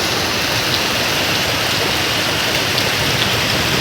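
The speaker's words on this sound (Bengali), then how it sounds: "এক ঘন্টা হতে চললো বৃষ্টি হচ্ছে" Steady, heavy rain falling in a continuous dense hiss that fills the whole span without a break, with no voices.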